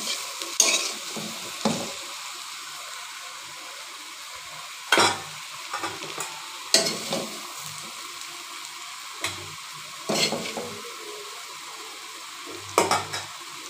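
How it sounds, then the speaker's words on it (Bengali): Young jackfruit fries in oil in a pan, a soft continuous sizzle broken by sharp scrapes and clatters of stirring every few seconds. "এদিকে আমার ইঁচড়টা ভাজি হয়ে গেছে"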